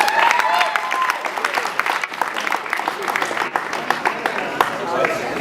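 Audience at an India Week 2012 event, honouring a cricket match between India and Pakistan, gives a steady, close round of applause with dense, continuous clapping and faint crowd murmur throughout.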